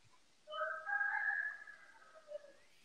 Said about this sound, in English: is that cockerels in the background?